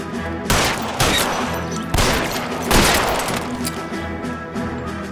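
Gunfire in the video game L.A. Noire: four loud, sharp shots at irregular intervals, each trailing into a dense, reverberant wash of noise, with no voices present.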